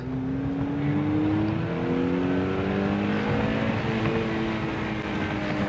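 A Mazda NC Miata on a race track, its engine droning loud and close from inside the car, pitch climbing steadily in a gear through several rising pulls without any talk.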